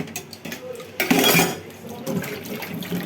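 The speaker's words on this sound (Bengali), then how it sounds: "আলুগুলি ধুয়ে নিচ্ছে।" Potatoes being washed by hand in a basin of water, with splashing and a brief louder surge of sloshing and clattering against a pot midway, close and without talk.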